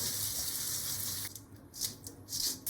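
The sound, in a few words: washing boiled azuki beans under water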